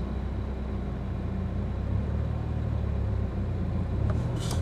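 A manual transmission car pulls away from a stop, its engine a steady low rumble heard from inside the cabin, with no voices.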